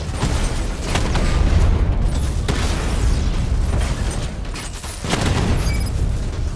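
Loud, sustained blasts and rumbling impacts as the Batmobile's cannon strikes a Rattler tank in Batman: Arkham Knight on PS4, with mechanical clanks layered over continuous heavy booming.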